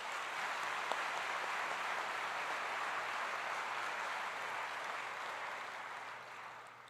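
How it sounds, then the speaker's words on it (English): A university graduation audience gives warm applause for the choir and band, a dense even wash of clapping heard from a distance, steady for several seconds before tapering off. "Please help me in giving them a warm round of applause"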